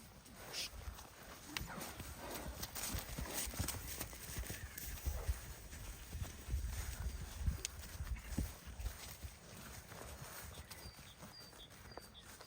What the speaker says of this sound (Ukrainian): Файні кобилки на Олександрівській, по 6 років, за 3 дні робочі